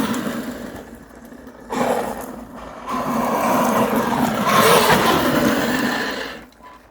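A Traxxas X-Maxx RC car fitted with a Hobbywing Max 5 ESC and an 800KV motor, whining and surging through a couple of bursts of acceleration before cutting off, fairly close.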